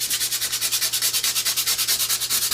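A surface is rubbed smooth by hand in fast, even back-and-forth strokes, a close, rhythmic scratchy swishing repeated about eight times per second without pause.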